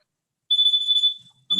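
One sustained, warbling high-pitched electronic timer beep sounds loud and close in a board meeting room, cutting off cleanly before a faint clunk.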